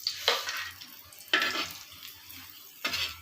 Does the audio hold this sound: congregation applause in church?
no